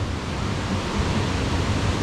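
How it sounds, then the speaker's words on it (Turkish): Large ocean waves breaking at the shore, heard as a steady, loud broadband roar of surf with continuous churning and no distinct individual crashes, filling the short stretch alone without voices. "Bak dalganın büyüklüğüne bak."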